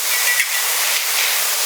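Beef steak sizzles on a Blackstone flattop griddle, a loud, close, steady bright hiss with no pauses and no talking.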